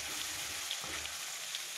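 Coarsely crushed garlic fries in hot oil, a continuous bright sizzle with faint pops, close and steady throughout.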